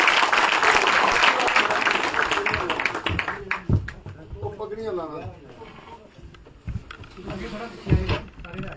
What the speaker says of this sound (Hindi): हाजी यूसुफ साहब, बहुत बहुत ताली से उनका स्वागत किया है।